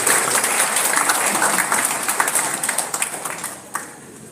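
An audience at a birthday celebration event applauds the Chief Minister, with dense clapping from many hands that thins out and fades into scattered claps over about four seconds.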